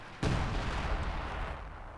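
Artillery fire in the video game Company of Heroes 2 lands as a sudden loud boom followed by a rumbling, noisy roll of distant blasts that keeps going.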